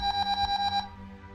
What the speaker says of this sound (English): I jumped to the sound of my alarm going off.